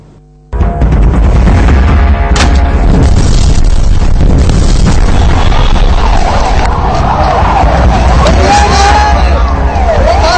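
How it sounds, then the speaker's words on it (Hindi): A sudden loud boom from the Marriott Hotel bombing in Islamabad bursts in, followed by a sustained roaring rumble with crackling and distant sirens wailing underneath. "तो बीती रात इस्लामाबाद दहल उठा था इस जबरदस्त धमाके से।"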